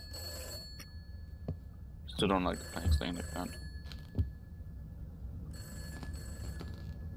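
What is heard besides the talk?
phone ringing in a video game (Summer of 58)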